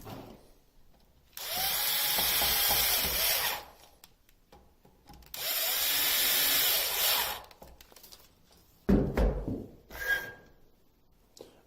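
A power drill runs in two sustained bursts of a few seconds each, close and loud, driving screws while fitting a T-Bone Racing wheelie bar onto a Traxxas 2.0 E-Revo RC truck, followed by a few short clicks and handling knocks.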